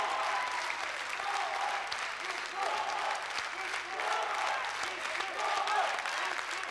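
A theater audience applauds after a clarinet performance, a dense, sustained wash of many hands clapping at moderate distance, steady throughout without a break.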